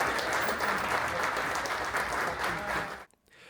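Crowd applauding and cheering as a new G class tram pulls out of a Melbourne depot, a steady, full wash of clapping that cuts off abruptly near the end.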